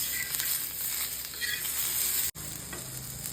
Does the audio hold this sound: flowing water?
no